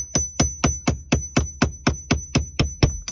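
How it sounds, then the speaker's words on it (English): Sharp metallic hammer blows on a nail set against a breakaway bolt during a VW ignition lock repair, about thirteen evenly spaced ringing strikes close up, with no talk. "Use a hammer"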